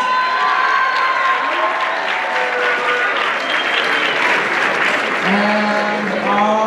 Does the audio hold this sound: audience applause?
yes